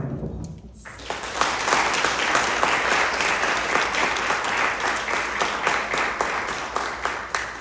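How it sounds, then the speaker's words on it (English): A crowd at a university leadership talk breaks into sustained applause, dense and even clapping that starts after a brief voice and holds steady without fading. "Give yourselves a round of applause."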